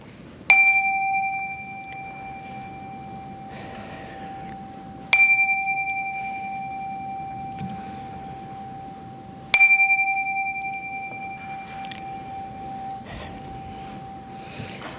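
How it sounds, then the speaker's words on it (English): Three clear strikes of a meditation chime at a Unitarian Universalist Sunday service, spaced several seconds apart, each tone ringing out long and pure over a quiet room. "center ourselves with the ringing of the chime"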